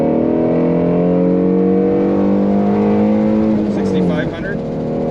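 Ford Mustang GT350R accelerating hard through several gears, its engine note climbing steadily in pitch and dropping sharply at each shift, loud and close throughout.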